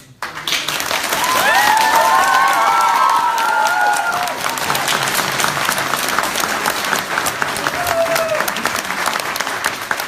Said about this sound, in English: Please hold back on your applause.